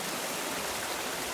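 Hermit Creek rushes steadily near its rapids in the Grand Canyon, a close, even roar of flowing water with no voices.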